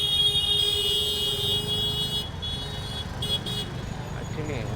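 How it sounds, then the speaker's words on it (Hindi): Vehicle horns honk in busy road traffic, a loud, sustained blaring tone over steady engine and street noise that cuts off partway through, with a voice speaking nearby. "इतना हॉर्न क्यों भाई"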